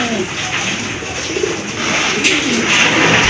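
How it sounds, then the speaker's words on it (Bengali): Domestic pigeons cooing in a farm loft, low throaty coos repeating close by over a noisy, busy background. "যখন দেখবেন তখনই কিন্তু দেখবেন ডাকতেছে কবুতরটা"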